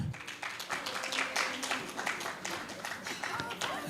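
Audience applause at the National Integrity Actions Awards 2025 ceremony as an honoree steps forward, a steady moderate patter of many hands, slightly distant and continuous, with voices mixed underneath.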